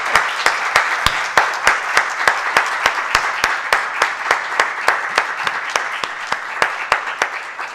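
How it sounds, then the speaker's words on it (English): At a 3-Minute Thesis science competition, the audience applauds the speakers with slow, evenly spaced rhythmic claps, each sharp and distinct over a soft background of scattered clapping, sustained throughout. "round of applause again."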